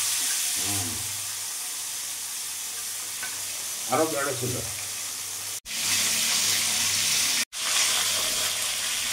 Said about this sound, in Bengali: সর্ষের তেল গরম হয়ে গেছে, এবার মাছগুলো আমি এক এক করে দিয়ে দেবো।